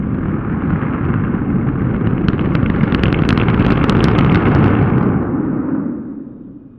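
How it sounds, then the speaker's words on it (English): A Starship Super Heavy booster static fire of all 31 engines, heard from a drone's view, gives a continuous roaring rumble with crackle that holds steady for several seconds before fading, loud and with no talk. "The drone view of the static fire with 31 engines of the booster only."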